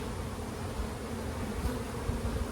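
Honey bees buzzing at an open hive, a dense steady hum close by with no voices.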